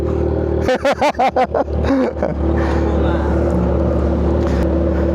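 Kawasaki Z1000R motorcycle engine idling close by, a steady low throb with a quick series of sharp throttle blips early on, while people talk nearby over the running engine.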